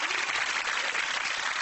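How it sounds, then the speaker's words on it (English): A TV studio audience at a chat show cheering and applauding, a loud, continuous burst of many hands clapping throughout. "Give him a big cheer and all of them"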